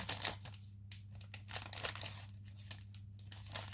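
A paper envelope crinkles and rustles as it is handled up close, in short crisp bursts with quiet gaps between them.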